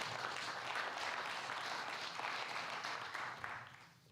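An audience at a high school sports player-of-the-year awards ceremony gives sustained, loud applause that holds steady, then tapers off near the end.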